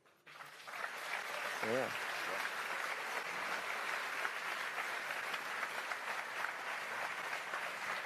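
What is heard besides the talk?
audience applause at Elite Dangerous panel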